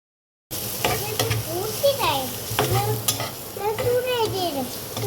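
Ridge gourd and potato cooking in a pan, with a low steady sizzle under repeated scraping and clattering strokes of a spatula stirring the vegetables, close and fairly loud.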